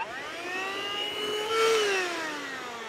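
A ThisWorx 12V handheld car vacuum cleaner runs steadily up close inside a car with a high, whining motor tone that rises briefly and then settles, alone with no voices.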